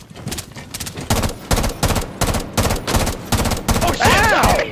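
Rapid gunfire in the shooter game Rainbow Six Siege: loud, evenly spaced shots fired in a steady rhythm, with a brief voice heard over the last shots.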